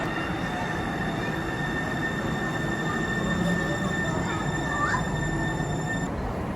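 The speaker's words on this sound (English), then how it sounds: "this is the train that we're gonna get on" A Link light rail train on the 2 Line rumbles steadily close by at a station in Bellevue, Washington, with a continuous low roar and faint high squealing tones from the wheels or brakes.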